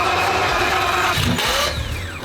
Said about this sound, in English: Cold start, man.